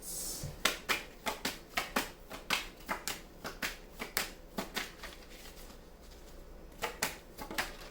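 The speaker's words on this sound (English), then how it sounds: "May I have some more cards, please?" Tarot cards are shuffled close by in a quiet room, with a steady run of quick, crisp riffling flicks, a brief pause, then a few more flicks at the end.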